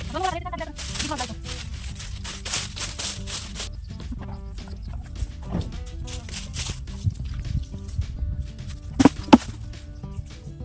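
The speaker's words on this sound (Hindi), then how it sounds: "मैं गोड़िया काट दूंगी।" Hand chopping in a village comes as a series of dull, irregular close strikes, with people talking over them.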